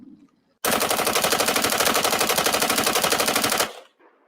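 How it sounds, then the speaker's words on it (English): AR-15 rifle emptying a 40-round magazine in one continuous rapid burst of about three seconds, loud and close, cutting off abruptly into quiet. "let's go back and figure out how fast this AR-15 went through that 40 round mag"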